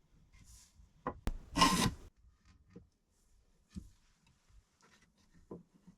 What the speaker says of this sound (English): We'll just mark the last piece up now.